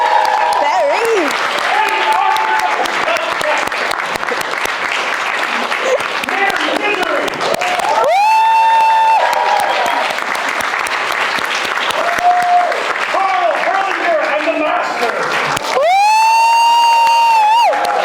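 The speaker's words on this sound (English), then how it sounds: "ladies and gentlemen, a big round of applause for Barry Under Your Bed." An audience at the Bob Baker Marionette Theater claps and cheers loudly, with whoops and children's shouts rising over a sustained roar of applause that swells twice in bright bursts.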